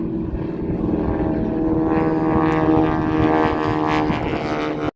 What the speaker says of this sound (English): turn the airplane around